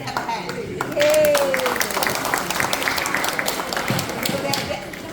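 An audience applauds line dancers before their medley performance, a sustained wash of clapping and cheering from a crowd, with a whistle-like squeal early on and talk mixed in.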